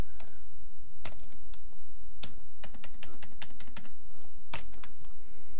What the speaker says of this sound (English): Or I'll just type it again.